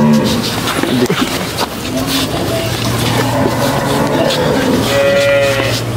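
A large dairy cow with six teeth gives a long, loud, low moo close by, sustained over background farmyard noise.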